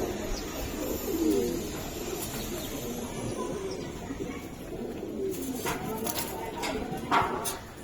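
Old-breed giribaz pigeons coo softly amid a steady noisy market or loft background, low murmuring calls blending with the general hubbub, close but not prominent.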